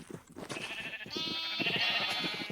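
Pink-dyed sheep in a Minecraft pen bleat in a steady, wavering sustained call over a busy background of blocky game sounds, fairly close and clear.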